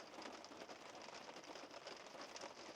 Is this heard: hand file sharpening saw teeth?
no